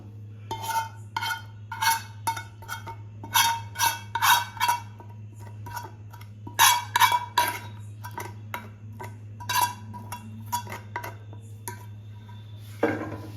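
Spoon clattering against a bowl while a sweet mixture is stirred, a series of bright clinks and scrapes in uneven bursts, close and fairly loud over a steady low hum, with a sharper knock near the end.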